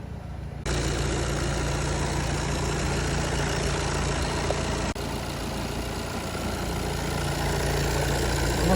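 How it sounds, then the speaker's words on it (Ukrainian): A VW Passat B8 4Motion Highline's engine idles steadily and close by, a constant low hum with a faint higher whine that holds unchanged, briefly dipping once midway, with no talking over it. "двигун робить добре"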